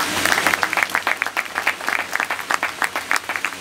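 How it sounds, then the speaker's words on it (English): Applause from an audience at a medical camp in Burari, New Delhi, with dense, steady clapping that pulses in quick bursts throughout, fairly close and loud, with no talk over it. "I think a big round of applause to all of you"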